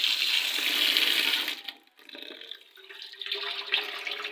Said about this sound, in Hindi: धनिया और प्याज वगैरह जो हैं इनको भी अच्छे से वॉश कर लेते हैं